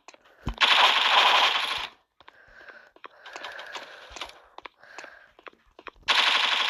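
Guns fire in the Roblox game Block Post in gun game mode, with loud sustained bursts of automatic fire that stop and start again, separated by quieter stretches of clicking and lighter shots.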